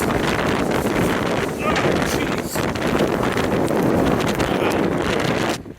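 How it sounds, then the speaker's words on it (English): Strong wind, gusting near 80 mph with rain, roars across an exposed hiking trail in a storm. It blasts loudly and without a break into the microphone, with heavy buffeting and a brief lull near the end. "That is some wind."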